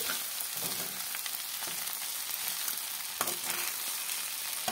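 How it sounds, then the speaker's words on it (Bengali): Pasta fries in a home kitchen pan as it is stirred, giving a continuous close sizzle with soft scraping and stirring knocks and no talking. "দেখো এখন আমি নাড়ছি।"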